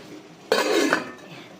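A metal lid set down onto a cooking pot while making dinengdeng with banana blossom, giving one short clattering clink of metal on metal that rings briefly before fading back to quiet room tone.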